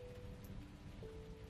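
Rain used as a soothing backdrop in a bedtime sleep story: a faint, even hiss of steady rainfall runs throughout under a soft hum, with no one speaking.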